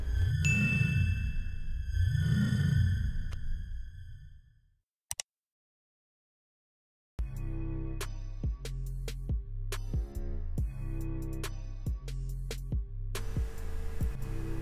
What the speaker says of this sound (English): ring that bell to never miss a video again